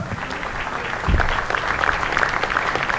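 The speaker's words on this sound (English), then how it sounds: "Give both the Wildcat Athletic Booster Club a round of applause and the Sunshine Fund a round of applause." Steady applause from a crowd at a baseball game, dense clapping that holds at an even level throughout with a slight swell partway.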